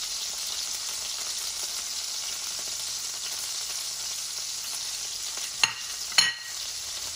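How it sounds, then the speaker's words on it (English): Greek meatballs fry in a pan with a steady, close sizzle. Two sharp grease pops stand out near the end. "the grease popping up over the edge of the pan"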